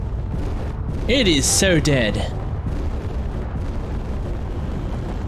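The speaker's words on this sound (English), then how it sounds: "Oh my god, there are so many explosions." Heavy booming and rumbling explosions in the game Space Engineers roll continuously in the background while a person talks over the noise.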